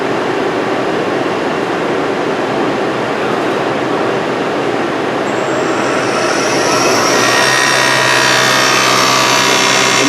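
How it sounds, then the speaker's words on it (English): A Southwestern Industries Trak DPM2 CNC vertical mill spins its belt-driven spindle at high speed, a loud steady whir heard close up that rises in pitch partway through as the spindle speeds up, with no talking. "And you hear the belt going around."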